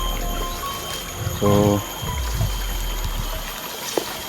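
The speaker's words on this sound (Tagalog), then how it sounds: "pag lumalakas yung tubig dito" Water rushing along a stream, washing out the soil at its bank, runs steadily behind a brief outdoor voice, with a short pouring burst near the start and a small clack near the end.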